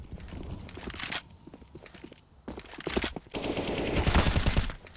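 Submachine-gun fire crackles in a Counter-Strike: Global Offensive match, with bursts of rapid shots, hard cuts between loud volleys and a dense stretch of continuous firing near the end.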